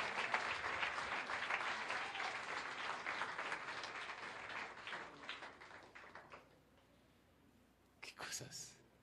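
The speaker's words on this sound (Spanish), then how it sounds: "Dale un aplauso al Rey bendito." Church congregation applauding at a Nezahualcoyotl service, a dense sustained wash of many hands that fades out after about six seconds, followed by a few scattered claps near the end.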